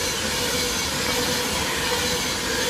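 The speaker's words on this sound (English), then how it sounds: "Passing straight through the main line at Stafford is... Oh, yeah! 391-136." Class 391-136 train running straight through the main line at Stafford, a steady loud broadband rumble with hiss and faint wheel squeal, close by and continuous.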